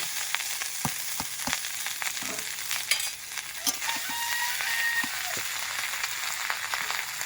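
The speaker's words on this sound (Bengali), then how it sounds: "ভেজে রাখা বিনস আর ক্যাপসিকাম দিয়ে একটু নাড়াচাড়া করে এবার ভাতটা দিয়ে দিচ্ছি" Rice stir-fried in a pan with fried beans and capsicum gives a steady close sizzle and frying hiss, broken by sharp clacks of a spatula stirring and scraping throughout.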